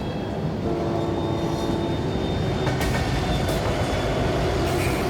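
A 6,000-tonne grain train rolls back onto the main line, a steady heavy rumble of wagons and locomotive with a faint high whine and occasional clanks, continuous and fairly loud throughout.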